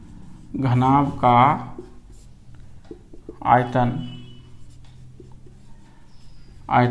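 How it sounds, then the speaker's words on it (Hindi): A math solution being written out gives faint, close scratching strokes in the pauses between bursts of a person talking. "तो लिखिए, यहाँ पर लिखते हैं"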